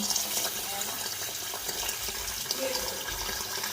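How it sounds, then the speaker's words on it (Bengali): Water in a clogged sink basin being cleared in a home kitchen, a steady close rush and gurgle of flowing water running throughout, with faint voices in the background. "বেসিনটার মধ্যে জল জমে গেছে জলটা পরিষ্কার করতে লাগবো"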